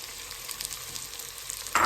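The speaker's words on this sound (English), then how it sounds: "We're going to saute the chicken with the onions." Chicken breast pieces sautéing with onions for a Moroccan chicken with olives and lemon, a soft, steady sizzle with a brighter burst of frying near the end, close and without talk.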